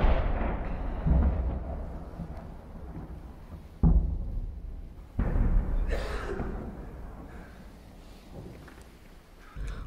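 Heavy booms of distant explosions strike several times, each rolling out into a long rumbling decay over a constant low background.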